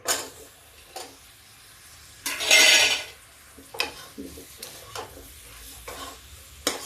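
Carrots dropped into a pan of soaked raisins and sugar, a sharp burst of sizzling and stirring in the middle, then scraping and clinks of a spoon against the pan, close and alone.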